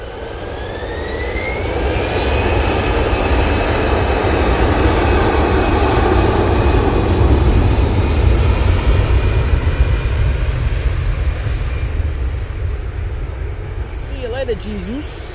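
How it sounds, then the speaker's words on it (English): At Manchester Airport, an Etihad Boeing 787-9 Dreamliner's jet engines make a loud, sustained roar that swells and then slowly fades. A voice talks faintly underneath the engine noise. "we have the Etihad 787-9 Dreamliner today"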